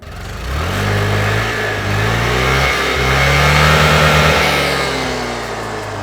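A scooter engine with an exhaust like the Activa's, rated 10 Nm at 5000 rpm, runs close and loud, climbing through several smooth revs and easing back between them with no talk over it.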